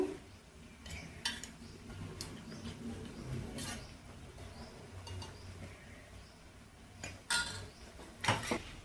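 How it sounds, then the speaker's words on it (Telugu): A utensil stirs turmeric into a chow chow vegetable curry in a pan, making soft scraping and mixing sounds with occasional metallic clinks against the pan, fairly quiet, with no talking. "పసుపు వేసుకొని ఇట్లా మిక్స్ చేసుకొని"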